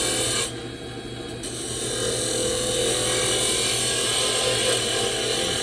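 Steady, continuous rasping scrape of a 3/8 spindle gouge cutting a Spectraply bottle stopper spinning on a wood lathe, close and loud, with a brief lighter moment near the start before the cut settles in.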